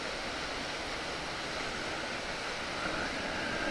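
Woods Falls waterfall between Moore's Forks and Altona, running with a feeble flow, gives off a steady, even rush of water that holds level for the whole stretch with no breaks or other sounds.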